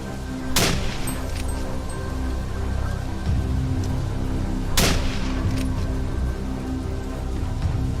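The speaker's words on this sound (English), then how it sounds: "3 loud gunshots rang out, ending the prey's escape once and for all." Gunshots fire during a mountain lion hunt on a forested mountainside. Two sharp, loud bangs come about four seconds apart over a steady background hiss.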